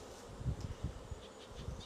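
Honey bees buzz during a hive merge, a faint, brief hum with a few soft close passes rising and falling.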